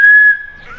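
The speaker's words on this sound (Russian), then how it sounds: "Ну-ка свистни." A person whistling a single clear, loud note that holds steady, then wavers and slides lower before fading.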